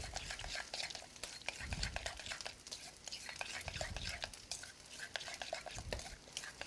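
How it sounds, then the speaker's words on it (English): A utensil scrapes and stirs roasted red pepper sauce in a bowl, soft repeated clinks and scrapes at a steady rhythm, close and fairly quiet, with a few low thumps along the way. "we're just going to stir that around until it's mixed together really well"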